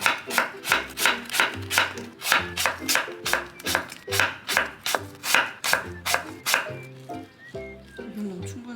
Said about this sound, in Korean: 일단 사과 반이면 충분해요. 반 얇게 썰어줄게요